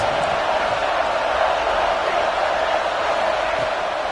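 A football stadium crowd at Nebraska versus Michigan roaring for the defense on a big red-zone third down, a dense, steady wall of distant cheering and whooping with no pauses.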